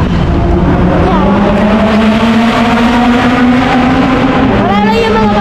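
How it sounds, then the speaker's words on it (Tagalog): Nearby motorcycle engine droning steadily with a rising and falling pitch, loud and continuous, with a brief upward rev near the end. "Motor lang po yun."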